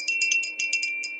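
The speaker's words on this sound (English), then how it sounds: "I've also got my Welsh bell." A Welsh cowbell rung repeatedly in quick, irregular strokes, giving bright metallic clanks over a steady high ringing tone, close and moderately loud with no talking.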